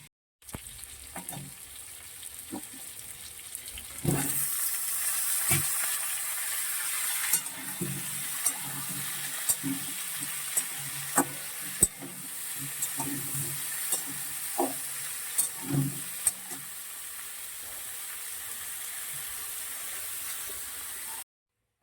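Pumpkin and potato curry frying in a pan, a continuous close sizzle with repeated stirring scrapes and knocks throughout, no talk.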